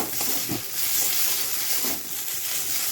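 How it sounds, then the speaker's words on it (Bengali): Spice masala frying in a pan for an eggplant and potato dish, a steady loud hiss and sizzle with a few faint stirring scrapes, no voices. "একটু ফ্রাই করে নিচ্ছি"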